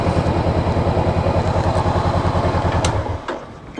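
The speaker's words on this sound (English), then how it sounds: "Oh, fan just kicked on." A 2018 Honda CBR500R motorcycle idles with a steady, close chugging pulse while its cooling fan adds a broad whirring hiss on top; near the end the engine note drops away, leaving a softer whir.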